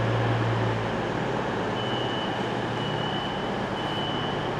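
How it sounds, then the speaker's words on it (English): A train rolling through a platform at Stockport railway station, heard as a steady low rumble with a faint thin tone above it and no talk, loud at the start and easing slightly afterward. "The next train to arrive at platform 1 will be the 11:54 East Midlands Railway service to Norwich"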